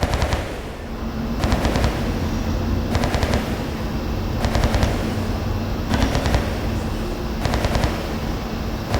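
Rapid bursts of automatic gunfire from a video game weapon, loud and close, come in several short volleys spaced a second or two apart over a steady background hum.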